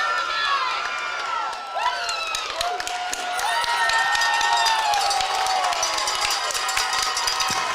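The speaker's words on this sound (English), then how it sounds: "And you can hear the crowd is getting ruckus." Football game crowd noise with shouting, whistles and cheering, loud and steady throughout at a Broome Centurion vs Woodruff Wolverines game, with shrill calls rising over the dense roar.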